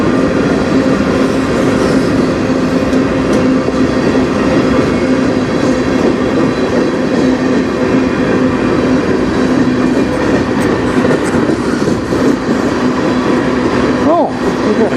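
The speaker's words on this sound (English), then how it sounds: "Oh, we got a short train." A short CN freight train rolls past at night in Sarnia, Ontario, a steady loud rumble with a low hum and rail noise filling the whole stretch, with a faint squeal near the end.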